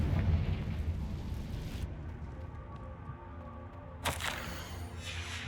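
The Confringo explosion spell goes off in Hogwarts Legacy as a dense, rumbling blast that fades into a low roar, followed near the end by a second sharp burst.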